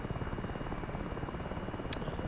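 Little Bird special-forces helicopter flying in the DCS flight simulator, a steady rotor thrum and engine drone throughout, with a brief brighter blip near the end.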